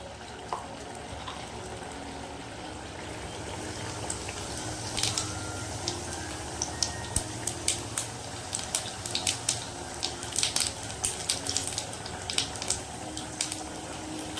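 Whole cumin seeds sizzling in hot mustard oil in a pan, a steady frying hiss with frequent small crackles and pops that grow busier over time, close and moderately quiet, with no talking.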